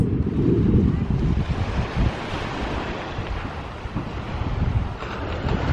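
Steady wash of waves with heavy wind buffeting the microphone, a continuous loud roar at the shore with no clear voices.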